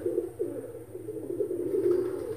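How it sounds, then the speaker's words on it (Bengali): Pulsar breed pigeons, an old pair nesting with their chicks, coo close by in a low, rolling, continuous murmur with no voices over it. "পুরনো, প্রচুর পুরনো আশাদের পায়রা, পালসার পায়রা, তাদের বাচ্চা হয়েছে।"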